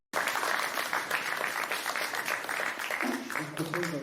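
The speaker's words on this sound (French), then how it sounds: "On peut les applaudir." Audience at a French public presentation breaking into applause, a dense, steady clatter of many hands starting abruptly and continuing, with a low voice briefly audible underneath near the end.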